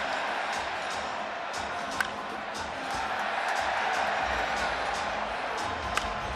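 A large stadium crowd at the 2023 Home Run Derby gives off a steady, dense roar of cheering. The noise holds at an even level throughout, with a couple of sharp cracks rising briefly above it.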